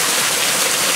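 Hail falls in a June storm in New Hampshire, a dense, steady hiss of ice pellets pattering on the ground and hillside, loud and continuous with no voices.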